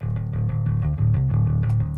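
A clean direct-input bass guitar, recorded alongside an overdrive track from a Kemper for a metal song, plays sustained, round low notes in a steady repeating rhythm, heard alone and up front.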